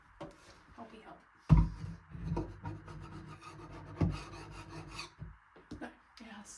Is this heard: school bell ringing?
no